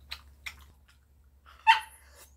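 A dog sniffing and snorting close by, short breathy puffs followed by a louder sneeze-like snort, over a faint low background hum.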